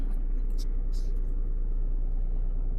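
A car engine idles and rumbles steadily at close range as the car is maneuvered into a workshop, a continuous low drone with no talk heard.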